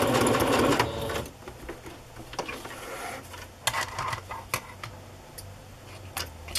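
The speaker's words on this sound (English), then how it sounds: "I'm just gonna sew that again just to make sure the threads don't come loose." A sewing machine stitches over threads on a music-themed journal, opening with a loud burst of rapid whirring, then lighter, irregular clicks and short mechanical bursts, close and alone.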